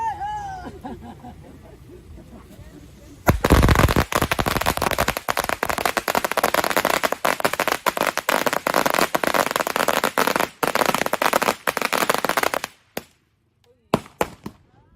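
Firecrackers explode in a long, dense crackling burst of rapid pops after a few quiet seconds. The volley then thins to scattered bangs, with background voices faintly present.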